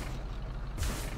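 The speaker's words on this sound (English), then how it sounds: "This car definitely bounces high with these hydraulics" A sharp pneumatic hiss with a heavy low thump as a lowrider's hydraulics fire in Grand Theft Auto V, over a steady rumbling engine.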